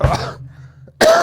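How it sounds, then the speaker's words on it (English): A person with a cold coughs loudly twice, a harsh burst at the start and another after a short quiet pause, close to the microphone. "Please excuse my coughing."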